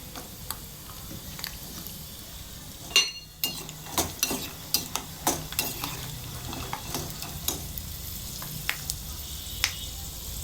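Light crackling and sharp little pops from peanuts frying in hot oil in a pan, irregular snaps over a soft sizzle, close and moderately quiet, with occasional stirring scrapes.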